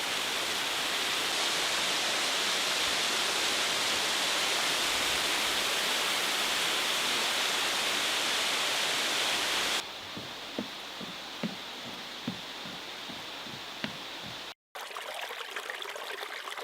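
Steady, loud broadband roar of a waterfall in a nature reserve in Dalarna, Sweden, filling the first ten seconds, then dropping to a quieter rush with a few faint clicks and knocks, briefly cutting out near the end.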